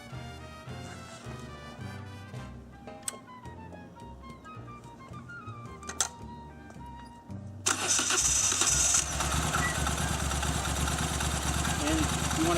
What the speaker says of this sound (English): I'm just going to get this thing started, and you can hear it run away down the street.